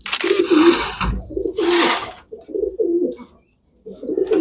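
Domestic pigeons coo in a loft, repeated low throaty calls in several bursts over a few seconds, close and clear, with brief rustling and wing noise between.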